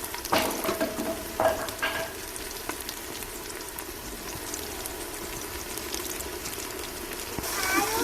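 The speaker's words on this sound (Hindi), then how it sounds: "अब हम इसे प्याज ब्राउन होने तक इसे अच्छे तरीके से हम पकाएंगे, भूनेंगे जब तक हमारा प्याज ब्राउन ना हो जाए।" Onions frying in a pan toward browning give a steady close sizzle, broken by scraping stirs and clinks of a spoon against the pan, with no talking.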